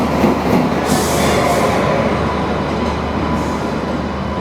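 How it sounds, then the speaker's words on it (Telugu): A Lallaguda-based electric locomotive hauls the Palnadu Express with LHB coaches through Secunderabad Junction, a loud continuous rumble of wheels on rail with faint squeals and clatter, close and steady throughout. "WFP7 లోకోమోటివ్, లాలాగూడ సంబంధించిన WFP7 లోకోమోటివ్ అయితే"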